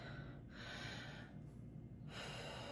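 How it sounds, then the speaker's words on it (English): A person nearby takes a deep breath in, heard as a soft, airy inhale with a brief pause, followed by another breath, against a quiet background. "take a deep breath in"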